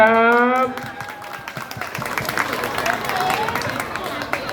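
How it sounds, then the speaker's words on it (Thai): Audience claps for kindergarten performers at a school show, a dense patter of many hands rising after a brief spoken voice at the start and continuing steadily with crowd murmur. "ถ้าพร้อมแล้วปรบมือเป็นกำลังใจให้กับน้องๆอนุบาลสามทับหนึ่งเลย"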